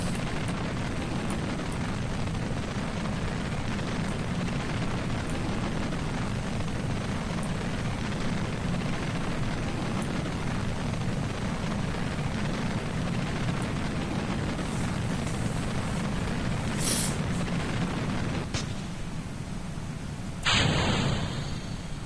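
A rocket engine in Kerbal Space Program burns with a continuous loud, rushing roar for a long stretch, dipping briefly near the end before a short burst; no voices.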